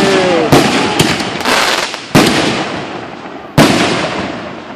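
Several sharp, low-bursting backyard firework bangs at irregular intervals, each followed by a crackling, rumbling decay, fairly close and loud with no voices.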